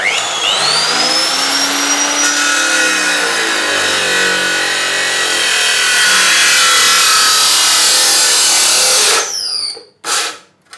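A metal cut-off saw, an NRT PRO 2490 VB, cutting iron at a 45-degree angle, spins up with a rising whine and grinds steadily and loudly for several seconds, then winds down and stops with a couple of clunks.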